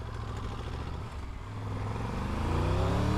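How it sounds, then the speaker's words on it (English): A Triumph Tiger 1200 motorcycle engine runs steadily in first gear on a steep downhill, a continuous close droning hum whose pitch shifts gradually as engine speed changes, with no talk. "I have to go down into first so it doesn't lug the engine"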